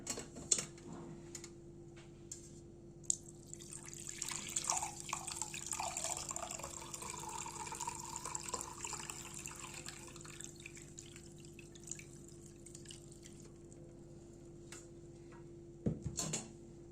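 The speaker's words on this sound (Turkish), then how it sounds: "Evet şimdi reyhan şerbetimi süzeceğim." Hibiscus basil sherbet drips and trickles through a strainer, a faint, steady liquid patter close by that swells briefly in the middle, with a brief knock near the end.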